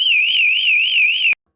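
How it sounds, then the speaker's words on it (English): A Grace Industries TPASS 3 TW train detector in alarm mode gives off a loud, piercing electronic tone that warbles rapidly and steadily, then cuts off abruptly. "TPASS 3 TW enters alarm mode as indicated by the rapid pulsing of 2 red LEDs and a rapidly modulating loud audio alarm"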